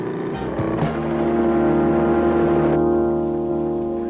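A motorcycle engine runs loud and steady in an animated scene, a sustained droning tone that rises slightly in pitch after a brief rev near the start, with no talking.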